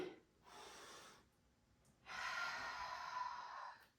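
A person breathing during a dumbbell workout: two long, soft breaths, a shorter one and then a longer, stronger exhale, close and quiet with no talking.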